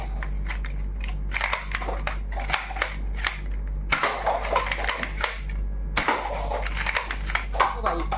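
A Nerf toy gun is test-fired up close: sharp plastic snaps and clicks land in quick irregular bursts, broken by a couple of brief pauses, with some talking underneath.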